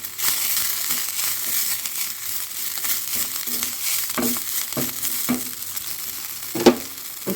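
Green chillies, curry leaves and coriander fry in a pan, a soft steady sizzle with scattered crackles and scrapes of stirring, one sharper clack near the end, no speech.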